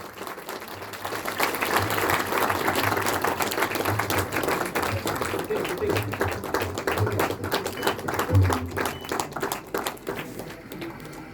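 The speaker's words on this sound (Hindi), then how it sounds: "जोरदार तालियां इनके लिए" Sustained applause from an audience at a university National Sports Day celebration, honoring an international shooting ball player; dense steady clapping runs for about ten seconds with a low background hum, then thins toward the end.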